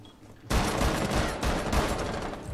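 Rapid gunfire from the Rainbow Six Siege video game erupts after a brief quiet start, then continues as loud, dense, overlapping bursts of shots for the rest of the clip.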